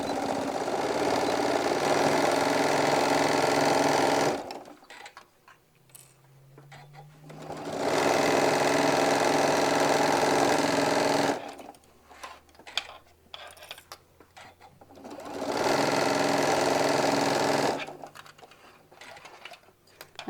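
A sewing machine stitches and back tacks at the top of a bag pocket in three loud, steady runs of a few seconds each. Quieter pauses with handling noise fall between the runs.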